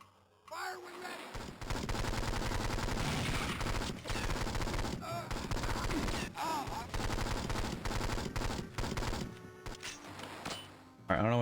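Rapid, sustained video game gunfire from 007: Nightfire on the Game Boy Advance rattles almost nonstop in loud bursts, with short breaks and game effects mixed in, and a voice speaking over part of it.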